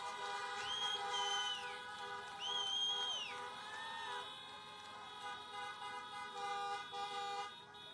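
Many car horns honk at once at a political drive-in rally in Miami, Florida, with long overlapping toots and a few bending tones rising over a distant crowd murmur.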